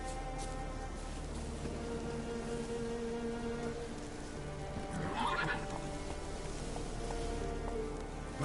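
Roach, the horse in The Witcher 3, whinnies over a steady bed of rain and hoof clip-clop, the neigh rising distinctly midway before fading back into the ambient game sound.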